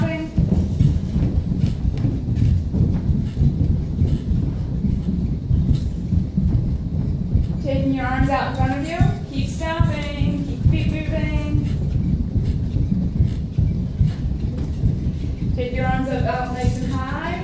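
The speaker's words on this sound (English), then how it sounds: "And then go back to that stomping." Feet stomp on a floor in quick, steady thumps during a seated chair yoga session for seniors, continuing throughout, with a voice rising briefly over the pounding.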